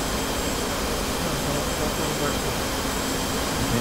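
Steady broadband roar of a jet engine in the DCS flight simulator as the throttle is eased back, a constant loud whine with no clear change across the stretch.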